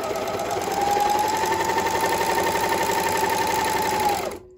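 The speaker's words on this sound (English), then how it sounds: "I'm just going to sew a seam here so you guys can hear that" An Elna 664 Pro serger sews a seam at a fast, steady whir for a few seconds, close up, then winds down and stops.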